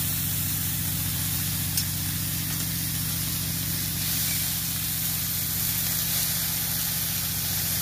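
Shredded cabbage going into a pan of cauliflower and potato fried until red, cooked dry with no water; a loud, continuous close hiss of frying with a low hum underneath and no speech.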